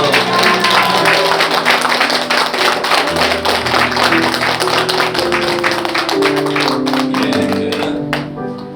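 A congregation applauds at a Presbyterian church pastor installation ceremony, with dense, sustained clapping over faint musical tones that tapers off at the end.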